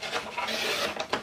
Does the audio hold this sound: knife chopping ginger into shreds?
no